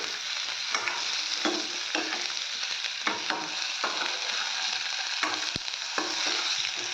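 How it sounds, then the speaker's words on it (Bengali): Pea curry stirred and frying in a pan, with a constant loud sizzle and repeated scraping clicks of a spoon against the pan, close and alone without talk. "চামচটা আমি নাড়াচাড়া দিতেছি সুন্দর করে।"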